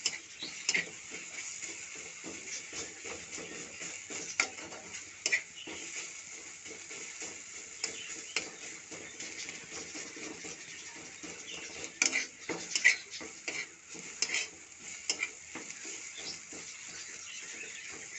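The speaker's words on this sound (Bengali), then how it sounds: "পিস পিস করে কেটে নুন হলুদ মাছে মাছ যেরকম ভাজা হয় সেরকম ভেজে নেবেন" Jackfruit pieces coated in salt and turmeric frying in oil, a faint steady hiss with small scattered crackles and light ticks throughout.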